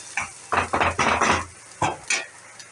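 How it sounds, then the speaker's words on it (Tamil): A utensil scrapes and knocks against a pan in a few short, close bursts while ground chilli and ginger paste is sautéed for potato bonda, with only faint sizzling between strokes. "இப்போ நம்ம மிளகாவும் இஞ்சி அரைச்சி வச்சதை போட்டுடலாம். போட்டு கொஞ்சம் நல்லா வதக்கிட்டு"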